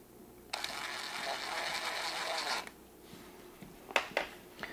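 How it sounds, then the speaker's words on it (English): Needle valve cap screw being reinserted and tightened on a hydraulic surgical table, with a sustained close metallic whirring and grinding run followed by a few sharp clicks and taps. "I'm going to reinsert and tighten it back down."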